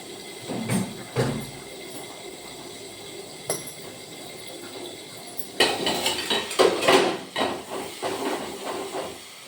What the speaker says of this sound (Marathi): तर मी ठेवून देते डबे